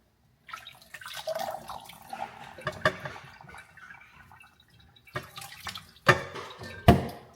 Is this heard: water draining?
yes